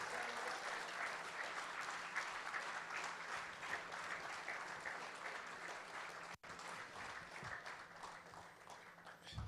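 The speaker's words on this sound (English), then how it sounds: "I think it deserves a thunderous applause." Sustained audience applause at a national quiz competition final, a dense, steady wash of many hands clapping throughout, briefly dipping once before continuing at full strength.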